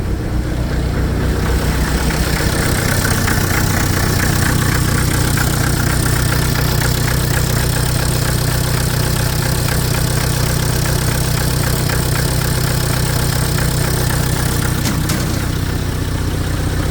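Hyster R80 forklift engine, recently fitted with new injectors, running steadily after starting: a loud, close, continuous rumbling idle with a constant rapid knock throughout, no talk over it.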